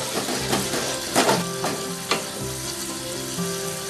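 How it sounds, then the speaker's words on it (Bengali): Spices with turmeric, cumin, coriander powder and salt sizzle steadily in a pan as they are sautéed, with a few sharper scraping stirs cutting through the frying hiss. "এবং মশলাটাকে আমি ভালো করে কষিয়ে নেব"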